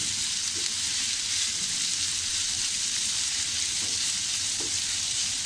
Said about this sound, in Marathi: आणि हे आलं व्यवस्थित आपल्याला असं छान असं गुलाबी रंग येईपर्यंत परतून घ्यायचं आहे.